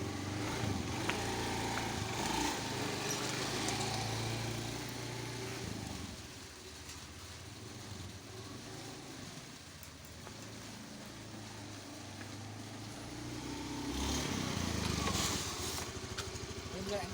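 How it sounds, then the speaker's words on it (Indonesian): A 2014 Honda Scoopy 108cc fuel-injected scooter engine runs with a low puttering hum and rough idle, louder at the start and again near the end, with someone talking over it throughout. "Kalau misalnya dinyalain engine-nya nyala nih."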